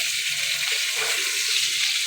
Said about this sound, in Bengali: আলুগুলো কড়াই দিয়ে দিচ্ছি